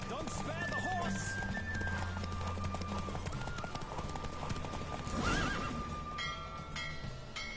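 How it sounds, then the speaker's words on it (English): A horse gallops in The Witcher 3, its fast clip-clop hoofbeats running steadily throughout with a whinny early on, layered over game music and ambient sound. "Don't spare the horse."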